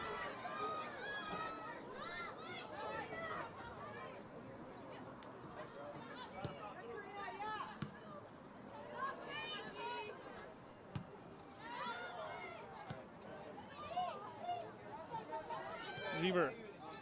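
Stadium crowd at a women's soccer championship match in Nampa, a steady murmur of chatter and cheering that swells at moments, with a commentator speaking over it throughout.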